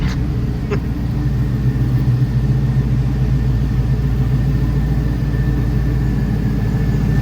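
A Cadillac 6.2 V8 with an 8-speed automatic idles in a 1992 Chevrolet Blazer, a loud, steady, deep engine rumble that holds even throughout, with a faint click near the start.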